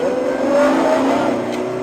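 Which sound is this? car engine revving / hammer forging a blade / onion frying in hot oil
car engine revving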